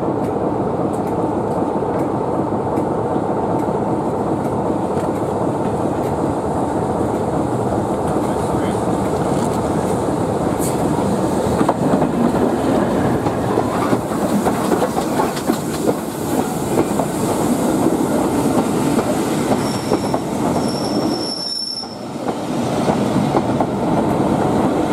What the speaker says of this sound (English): is 92214 Leicester City 9F steam locomotive